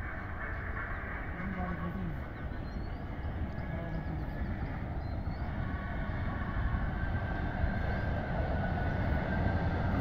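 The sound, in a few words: Sealdah train arriving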